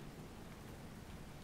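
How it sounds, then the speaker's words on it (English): Steady thunderstorm rain ambience: a dense, continuous hiss of rainfall with a low rumbling undertone, even and unbroken, fairly quiet, with no voices. "A thunderstorm suddenly comes up upon you."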